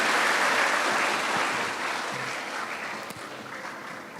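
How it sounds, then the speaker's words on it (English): Conference audience applauding after a presentation at an agronursing conference; dense, steady clapping fills the whole stretch, loud at first and easing slightly toward the end, with no speech over it. "Give applause for Dr."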